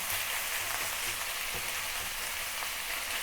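Beef sears in a wok over medium to medium-high heat for a stir-fry with bok choy, producing a steady, dense, close sizzle that holds evenly throughout with no talk.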